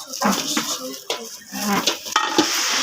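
A thick, oversized lid of a 2.8 to 3.0 liter rice cooker is handled up close, giving soft knocks and scrapes against the pot under a steady background hiss.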